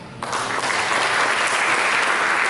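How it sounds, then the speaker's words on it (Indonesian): A church congregation breaks into sudden applause during a sermon, a dense, sustained wash of many hands clapping at an even, loud level. "Berikan tepuk tangan"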